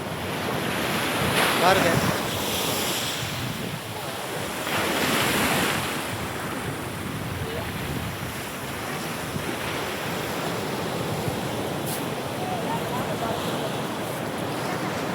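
Sea waves at Muttapathi beach roar and wash continuously, with gusty wind buffeting the microphone and swells rising and falling in strength; a voice speaks briefly.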